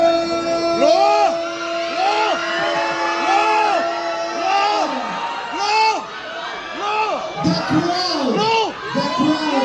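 Spectators at a Red Bull Dance Your Style qualifier in Cebu whoop and cheer loudly, rising in repeated swelling yells and shouts that overlap into a roaring crowd.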